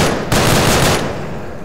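.30 caliber machine gun firing in a World War II-style video game, one loud dense burst of rapid automatic fire that cuts off after about a second, then fades away, close and alone.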